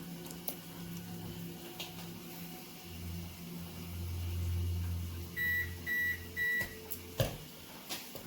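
A home kitchen oven signals it has finished preheating with a short series of evenly spaced beeps, clear and fairly close over a low room hum.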